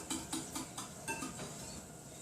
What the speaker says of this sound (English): Gonna give it a good stir.